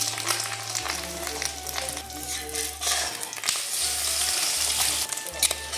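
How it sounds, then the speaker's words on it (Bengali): Eggs fry in white oil in a wok, a continuous sizzle and crackle running throughout alongside a steady low tonal hum. "এবার ডিমগুলো আমি ভেজে নেব।"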